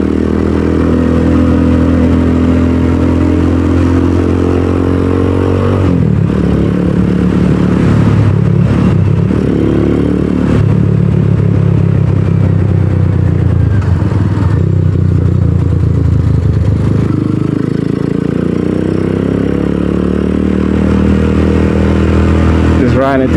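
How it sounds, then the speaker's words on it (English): A Venom X22R scooter engine drones steadily while riding along back roads, its low hum loud and continuous with some clatter and shifts in pitch, and someone talks over it for much of the ride. "I really enjoy riding the little scooter through the back roads though."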